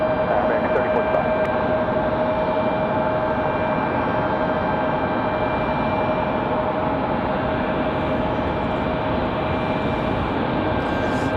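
An American airliner takes off from runway 23 right at Raleigh-Durham, its engines a steady, loud broadband roar with a faint whine throughout.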